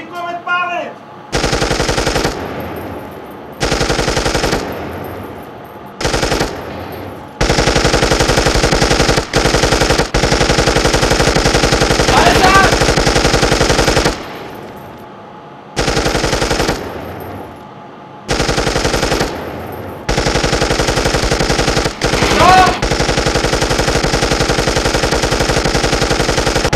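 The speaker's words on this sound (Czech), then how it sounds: "Dvojkulomet pálit." Twin machine gun at a fortress reenactment at Březinka, firing loud sustained bursts with short pauses between them, several long strings and a few brief ones.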